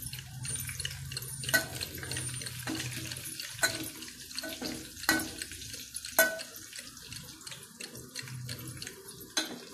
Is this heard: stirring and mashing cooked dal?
yes